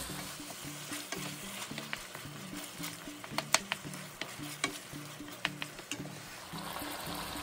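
A cheesy beef and bean mixture stirred thoroughly in a pan, with repeated rhythmic scrapes and soft wet squelches over a low background sizzle and a few louder knocks of the utensil, and no voices.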